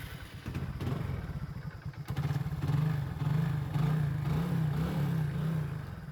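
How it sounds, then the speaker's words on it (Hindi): A Hero Super Splendor motorcycle engine starts and settles into an idle: a steady, close, low, thumping rumble that grows slightly louder and more even after the first couple of seconds, with no talking. "तो साउंड अब मैं इसको स्टार्ट करके भी आपको दिखा देता हूँ, कैसी स्टार्ट में मतलब स्टार्ट होती है तो क्या कैसा साउंड आता है भाई इसका।"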